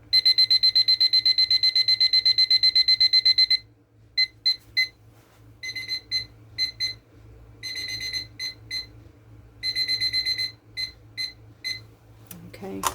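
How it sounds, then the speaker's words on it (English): Kitchen timer being set for baking bread gives a rapid run of loud, close beeps, then shorter clusters of beeps as the time is adjusted, with a low hum underneath. "So, set my timer."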